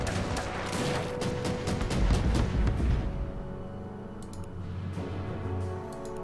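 Artillery pieces fire on an anti-aircraft gun in the strategy game Order of Battle, set at the Battle of Bataan. A dense cluster of sharp booming blasts and crackling impacts builds up, then fades to a quieter rumbling tail with occasional ticks.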